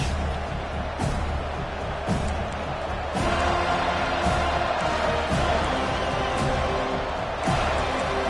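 At a college football game, a big stadium crowd roars with sustained cheering and noise, loud and unbroken across the stands, with occasional thumps and a commentator's voice faintly in the mix.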